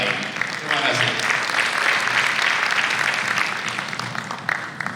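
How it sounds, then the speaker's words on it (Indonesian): Sustained applause fills a conference opening session in Jakarta, a dense, steady clapping from a large audience that holds strong throughout, with some voices mixed in beneath it. "Sekali lagi boleh ada tepuk tangan yang paling meriah untuk Gubernur DKI Jakarta, Bapak Anies Rash"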